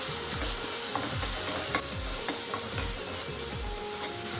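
Ground masala paste with onion frying in hot oil for an Agri-style crab bharit, a steady close sizzle broken by repeated scraping stirs of a spoon against the pan.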